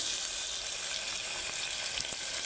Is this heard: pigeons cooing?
no